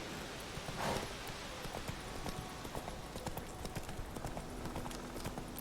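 Hooves of the horse Roach from The Witcher 3 video game clip-clop steadily at a moderate distance, approaching at a brisk gait with light game ambience underneath.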